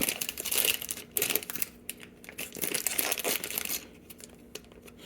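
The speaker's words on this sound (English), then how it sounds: "here's the next bag. Tear it open." A plastic bag holding a Blokees Transformers Galaxy Version model kit crinkles and tears open close by, with bursts of sharp rustling separated by brief pauses, no talking.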